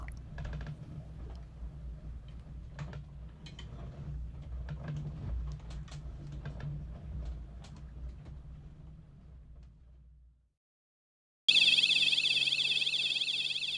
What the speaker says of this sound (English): That was not just a ship alarm, that was a collision alarm